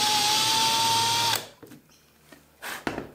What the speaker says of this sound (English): Put your drill into reverse with a larger drill bit, countersinking size